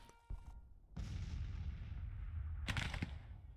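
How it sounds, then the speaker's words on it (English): Artillery guns firing in a Grand Tactician battle, Union campaign at Bolivar: a sharp report followed by a long low rolling rumble of cannon fire, then another burst of blasts near the end, loud and continuous. "Our guns are firing on them."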